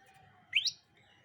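A caged common tailorbird gives a short, sharp rising chirp followed by a second quick note, bright and fairly close, standing out against faint low background murmur.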